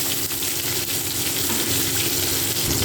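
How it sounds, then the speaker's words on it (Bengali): Katla fish frying in hot oil in a pan, giving a close, steady crackling sizzle that runs unbroken throughout with no voices. "দুই পিঠ একটু ভাজা হলে আমি পরের বারের মাছগুলো দিয়ে দেবো"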